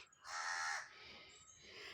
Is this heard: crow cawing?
yes